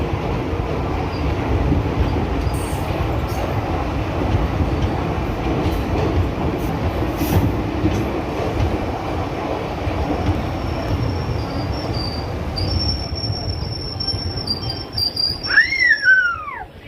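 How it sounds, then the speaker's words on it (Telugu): A passenger train rumbles into a station in Kerala with a steady, loud roar of wheels and carriages, and brake squeals rise sharply near the end as it slows. "ఇప్పుడే మన ట్రైన్ వట్టపాలెం అనే స్టేషన్కి వచ్చిందండి"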